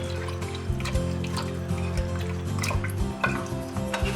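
Water poured into a pressure cooker of mutton biryani ingredients with ginger garlic paste, a close trickling splash over a sustained low hum and light metallic clinks.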